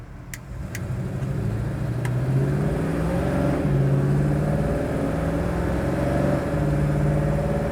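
A 1966 Chevrolet Chevelle SS drives along a street, its engine droning steadily and rising through the gears with a clear upshift partway through, close and loud with no talking.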